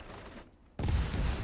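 A fuel-air rocket strikes its target in Arma 3, a sudden loud, heavy blast after a brief lull, followed by a deep rumbling roar that carries on and slowly fades.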